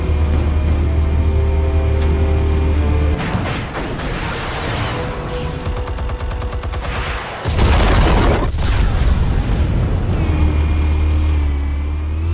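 Explosives detonating in the Batman Telltale Series game, a heavy booming blast with crackling debris and rumbling bursts rising over a steady low musical drone, loud and close.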